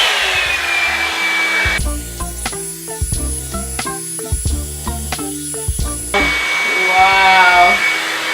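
A Revlon One Step hair dryer blows steadily while drying natural type 4 hair, its loud airy whine shifting in pitch as the brush moves, with clicking and brushing noises in the middle section.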